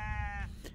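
A lamb gives one short, wavering bleat, close and clear over a low background rumble.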